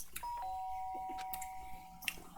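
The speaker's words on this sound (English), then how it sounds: "Sharp sound of a doorbell pierced my sleepy haze and pulled me back to the real world." A doorbell in the Danganronpa Trigger Happy Havoc video game gives a short two-note chime, with clear ringing tones that hold for over a second amid quiet game ambience.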